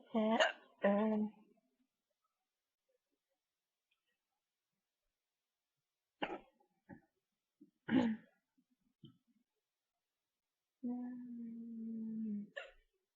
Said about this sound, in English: Have you ever had hiccups and they don't want to go away?